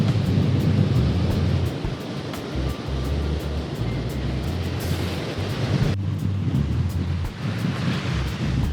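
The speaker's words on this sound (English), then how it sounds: "the waves keep knocking him back. There's some big ones coming in." Ocean surf at Padre Island National Seashore on a windy day, with waves breaking continuously onto the beach in a loud, steady roar and heavy wind buffeting the microphone throughout.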